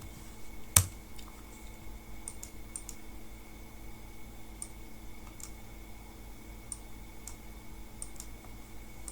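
Sparse computer mouse clicks while selecting spreadsheet cells in Excel, one sharp louder click near the start followed by a few faint, irregular ticks over a quiet steady hum.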